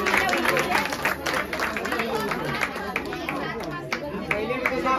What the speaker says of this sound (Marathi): सगळ्यांनी टाळ्या मारायचा आहे.